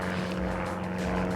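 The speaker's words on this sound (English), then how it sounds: "Where is that darn plane?" A propeller airplane flies overhead, its steady engine drone loud and continuous throughout the short stretch.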